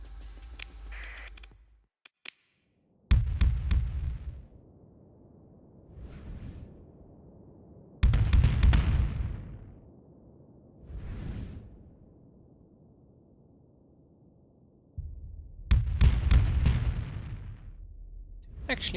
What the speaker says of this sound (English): What about the heavy mortar?